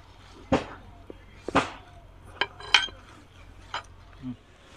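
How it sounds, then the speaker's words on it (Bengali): Spoon clinking against a bowl while food colouring and water are mixed for homemade abir powder, a few sharp separate taps spread out, fairly close, with faint background noise. "এখানে আমি 1 চামচ মতো ফুড কালার নিয়ে নিচ্ছি। 2 চামচ মতো জল দিয়ে দেবো। ভালো করে মিক্স করে নেব।"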